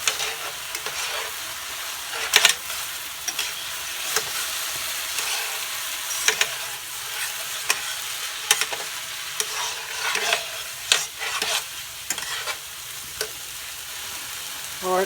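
Rice with McCormick taco seasoning sizzles and fries steadily in a frying pan, close and continuous, while a utensil stirs and scrapes through it in repeated irregular strokes.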